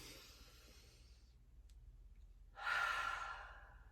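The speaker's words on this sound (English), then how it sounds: "let's do a deep breath." One slow, deep breath: a soft inhale, a short pause, then a louder, airy exhale close to the ear, alone in a quiet room.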